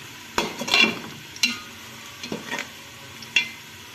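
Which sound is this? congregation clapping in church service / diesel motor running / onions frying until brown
onions frying until brown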